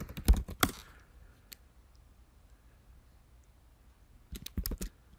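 An email address is typed on a computer keyboard in quick bursts of close, crisp key clicks at the start and again near the end, with a near-silent pause between.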